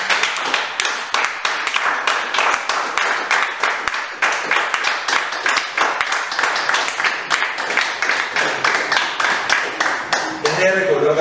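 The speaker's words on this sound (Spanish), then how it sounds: "Que le da un aplauso al Señor" Church congregation applauding, with steady, dense rhythmic clapping that runs for several seconds and then tapers at the end, while a voice can be heard faintly under the claps.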